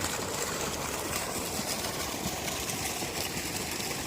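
A farm water pump motor runs with a steady, loud, unbroken drone and rough mechanical rattle throughout, with no voices.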